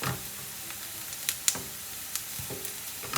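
Onions sizzle steadily in a hot pan, fried until light brown and translucent for an Anglo-Indian chicken curry, with a few sharp clicks and scrapes of stirring over the constant hiss.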